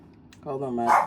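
A dog barks close by, a short burst of two or three yips and barks rising to a louder final bark, while someone speaks briefly over it indoors.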